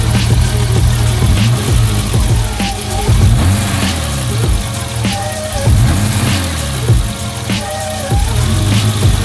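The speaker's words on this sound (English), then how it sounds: "it's idling perfect the way it should be" A BMW E30 engine idles steadily and smoothly up close after a fuel injector cleaning and rebuild, with a loud, even mechanical hum and faint periodic ripples in the rhythm, no voices.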